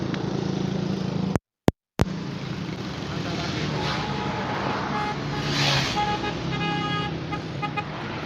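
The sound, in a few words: road traffic on Karachi National Highway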